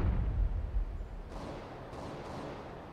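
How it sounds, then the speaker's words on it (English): A flashbang grenade detonates in a tactical bomb-defusal shooter, a heavy low boom at the start that rolls into a hissing, ringing wash of noise before a couple of fainter bursts, with no talk over it. "Flashbang."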